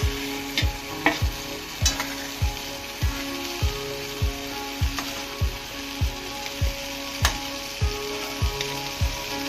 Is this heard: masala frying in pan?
yes